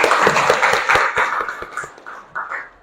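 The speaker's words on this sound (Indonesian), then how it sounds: "Tepuk tangan untuk temannya." A classroom of students claps for a classmate in a short burst of distinct hand claps that thins out and fades within a few seconds.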